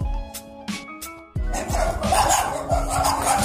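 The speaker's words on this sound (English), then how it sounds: "you can see there the dogs are barking from the other side of the world" Dogs bark in a street, several sharp woofs and yips, the first few separate, then a dense run of barking over louder traffic or motor noise, fairly close.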